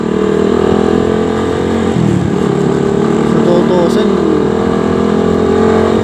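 Motorcycle engine humming steadily while riding, loud and close with constant wind noise, someone talking briefly over it.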